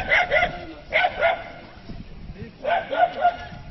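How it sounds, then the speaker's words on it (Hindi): A police sniffer dog trained to find liquor barks in short bursts of two or three at night amid a crowd, the barks fairly close and loud with a murmur of people in between. "एक कुत्ता लेके आए हैं"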